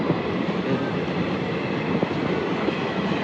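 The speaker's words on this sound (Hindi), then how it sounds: "यहाँ से जा रही है ट्रेन" A train rumbles past a railway crossing with a steady, dense roar and faint clicking wheels, heard close and continuous while rain falls lightly.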